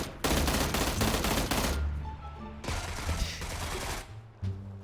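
Bursts of automatic gunfire in PUBG tear parts off a truck, loud rapid volleys in several separate strings with short pauses between, close and dominant, with no talk over them.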